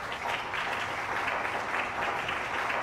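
Steady, dense applause from a gathered audience greets a sought-after photojournalist, a continuous wash of clapping at moderate level with no voices on top.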